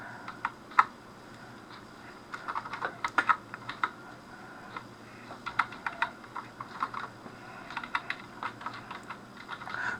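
Someone types a password on a computer keyboard, with irregular clusters of light clicking keystrokes, close and fairly quiet, scattered across the stretch with brief pauses between bursts.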